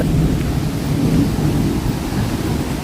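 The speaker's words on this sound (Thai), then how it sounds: "นี่ไง วอเตอร์ฟอลนี่ไง" A steady, heavy roar of rushing water fills the whole stretch, loud and constant, from a waterfall close by in a valley at Grotta Urlante, Premilcuore, Italy.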